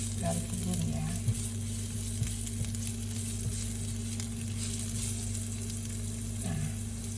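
Garlic frying in a pan for a sweet-savory eggplant dish, a steady close sizzle that runs unbroken throughout with occasional light stirring, over a constant low electrical hum.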